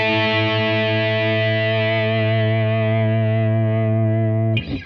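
Gibson Memphis Chris Cornell ES-335 electric guitar holding one sustained, heavily distorted chord that rings loud and close with a slight chorus shimmer, then is cut off by a brief pick or string noise at the end.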